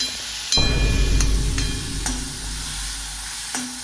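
Egg bhurji with chilli and tomato stirred in a hot pan, a loud sizzle bursting in after a moment and holding steady, with a few sharp spatula scrapes and knocks against the metal.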